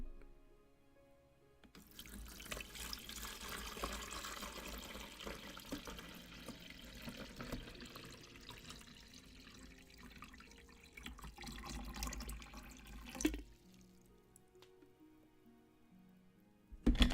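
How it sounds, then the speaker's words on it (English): Liquid poured steadily into a coffee container for about eleven seconds, a close, continuous splashing stream that stops abruptly, followed by quieter handling sounds. "See if you guys can hear me pour this in."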